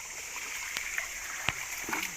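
Water splashes and trickles over freshly dug soil in a gold-panning sieve deep in the forest, a steady soft flow broken by a few sharp splats.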